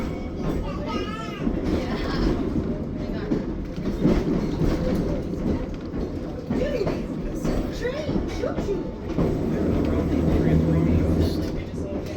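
Trolley rolling on rails at Steamtown in Pennsylvania, a steady low rumble with rail clatter throughout, while voices talk over the ride.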